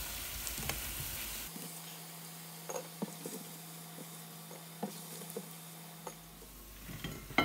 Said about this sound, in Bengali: এবার বাকিগুলিও আমরা ভেজে ফেলবো